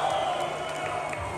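Concert crowd at a Moscow rock club during a Rainbow and Deep Purple hits show, a dense sustained roar of cheering and shouting that stays steady and loud throughout, with no distinct voices standing out.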